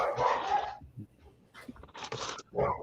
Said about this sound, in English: my dog's pissed off.